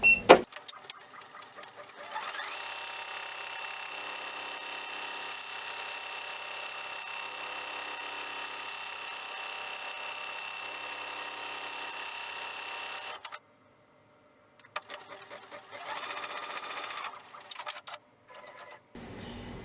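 A home sewing machine stitching quilting lines up and down a fabric block, running steadily for a long stretch at a fast even hum, then pausing and restarting briefly.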